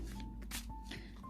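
Tarot cards are shuffled by hand in a quick flurry of soft riffling and slapping, close and quiet over a steady low background hum.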